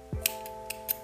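Scissors snip yarn close to the work, giving a few short, sharp metallic clicks spaced apart over a faint background hum.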